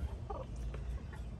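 Faint, soft clucking from a hen with newly hatched chicks, a few low murmuring calls over a quiet background.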